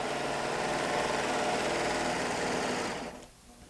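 A sewing machine runs a decorative wave stitch with a piping foot, a steady fast motor whir with rapid needle chatter for about three seconds before stopping abruptly into quiet.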